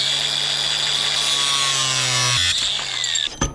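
A cut-off wheel grinds through metal mending braces, a loud, steady, close-up whine that shifts in pitch as the cut progresses, ending with a sharp clank as the tool stops.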